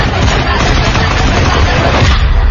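Firecrackers go off as a loud, dense, continuous crackling barrage of rapid overlapping pops, used as a sound effect in a Bollywood radio promo.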